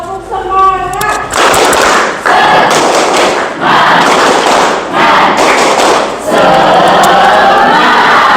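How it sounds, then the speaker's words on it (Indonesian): Students in a lecture room perform a rhythmic spirit clap, loud bursts of patterned group clapping and thumps in several waves separated by brief pauses, with voices chanting along in the crowd. "Kita tepuk semangat boleh?"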